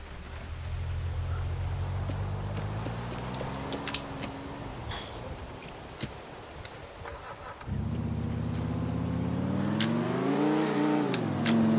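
A car engine in GTA 4 revs up through rising and falling pitch sweeps, eases off, then roars again louder and closer with a fresh climbing rev, with no talk over it.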